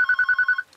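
A telephone bell rings in one short burst of rapid, even trills, loud and close, then stops.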